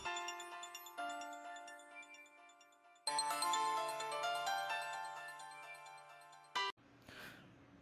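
A mobile phone rings with an incoming call, its melodic ringtone repeating in bright layered phrases that swell louder partway through, then cuts off abruptly and a brief breathy noise follows.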